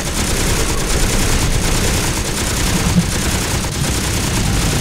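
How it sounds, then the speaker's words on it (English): Dense, continuous volleys of gunfire fill a creature battle in the game Beast Battle Simulator, a loud, unbroken rattle of overlapping shots with no pauses. "What are they shooting at?"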